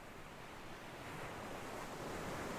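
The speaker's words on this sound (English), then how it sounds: "Close your eyes if you're comfortable, and listen to these waves." Ocean waves breaking on a beach, a steady wash of surf with gentle swells, heard alone at low to moderate level without any voices.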